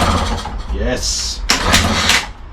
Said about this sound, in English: Alright, so the bike actually started.